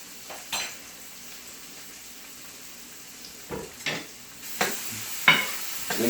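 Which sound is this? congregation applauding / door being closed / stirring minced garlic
stirring minced garlic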